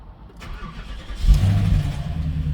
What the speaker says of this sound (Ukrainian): Попробуємо завести двигун.